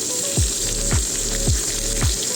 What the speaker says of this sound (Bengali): আমার মাছের এক পিঠ ভাজা হয়ে গেছে।